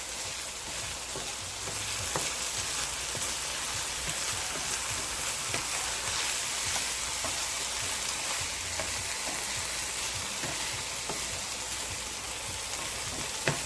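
Chicken fried rice sizzles steadily in a hot pan as it is stirred and mixed, a continuous bright crackle with faint scraping knocks of the utensil throughout.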